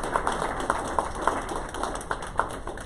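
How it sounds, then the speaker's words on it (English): Scattered clapping from a symposium audience applauding the speakers, a thin spread of claps with a few sharper hits over about three seconds, fairly quiet and without much build. "let's give all the speakers another round of applause"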